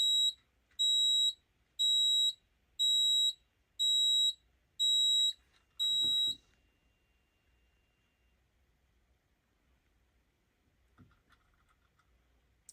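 Smoke detector set off by fog machine smoke shrieks in seven evenly spaced piercing beeps, loud and alone, then falls silent apart from a soft bump and faint background tones.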